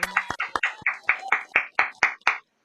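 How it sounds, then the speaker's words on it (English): A single round of applause for a guest, heard as steady rhythmic clapping: about ten evenly spaced, close, fairly loud claps over under three seconds, then it stops. "round of applause for Mr. Barry Diamond"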